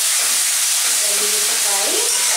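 Lauki kofte, bottle gourd dumplings, frying in hot oil in a pan in an Indian kitchen, a loud, steady close-up sizzle and hiss with faint bubbling, no break in the sound.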